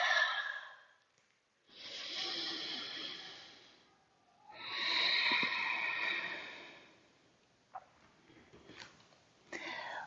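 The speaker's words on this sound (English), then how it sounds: "completely emptying it with a full, loud exhale" Deep yoga breathing, with long, loud, breathy exhales pushed out through the mouth in slow successive waves, close to the mic, ending with a few small clicks and quiet shuffles.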